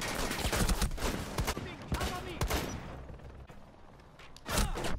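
Hipfire gunshots in Rainbow Six Siege ring out in clustered bursts, loud and close, with a separate volley near the end and some speech mixed in among the shots.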